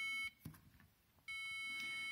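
A shutter security system's alarm sounds in sharp electronic beeping bursts, a loud high tone that sounds, stops briefly with some faint handling noise, then resumes, with no one talking.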